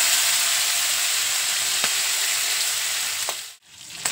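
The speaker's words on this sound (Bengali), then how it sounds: "সর্ষের তেলটা গরম হয়ে গেলে কাঁকড়াগুলো হালকা করে ভেজে নেব।" Sea crabs dusted with turmeric sizzle loudly in hot mustard oil, a dense, close frying hiss that dips briefly near the end, with no talking.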